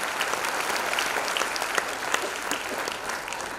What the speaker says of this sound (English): I think all of them deserve a big round of applause once again.